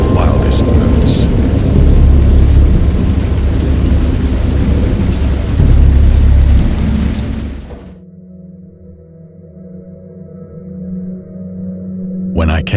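Heavy thunderstorm from the H.P. Lovecraft horror game Dagon: loud, steady rain with deep rolling thunder for about eight seconds, then an abrupt drop to a low, quiet hum before the storm swells back at the end.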